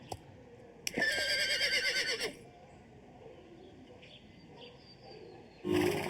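Horse neighing in a video game, the horse Epona from a Zelda let's play: a loud, shaky whinny lasting over a second, then quieter ambient game sounds and a brief burst at the end, no talk.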